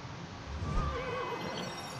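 Horse neighing in the LEGO Dimensions video game, a single wavering whinny rising and falling over about a second, fairly quiet, with a soft thud of hooves beneath and no talk.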